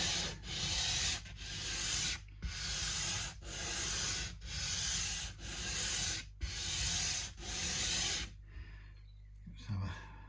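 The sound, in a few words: belt and disc sander sanding wood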